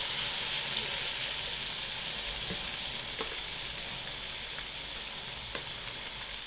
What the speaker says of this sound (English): Let's get the cooker on high. We're going to fry it